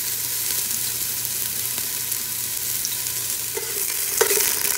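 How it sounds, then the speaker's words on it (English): Chopped onion frying in a little oil in a pan, a steady close sizzle and crackle that holds without a break and swells briefly louder near the end, with no voices over it. "on a pan, you're gonna add a little bit of aceite. And you're gonna throw in there some chopped onion."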